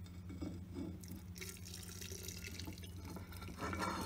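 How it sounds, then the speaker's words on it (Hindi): Hot mustard oil is poured over packed mango pickle in a jar, giving a soft, continuous liquid trickle with a few drips, heard close and alone. "अचार भरने के बाद हमने सरसों का तेल और ऊपर से डाल दिया है"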